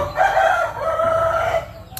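A rooster crows once near a chicken coop, a loud, drawn-out call close to the microphone with a faint low murmur underneath.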